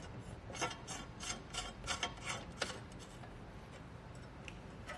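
Bolts being fitted into a roof rack bracket on a 2017 Jeep Wrangler Unlimited, producing a run of quiet rasping, ticking metal turns in quick bursts during the first few seconds, then fading to a faint hiss.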